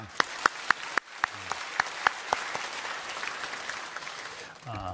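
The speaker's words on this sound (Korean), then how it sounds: "우리 다시 한번 하나님께 큰 영광의 박수 올리겠습니다" A Sunday worship congregation at Bundang Woori Church claps, starting with a run of evenly spaced loud claps that swells into a full wash of applause, and a voice comes in as it ends.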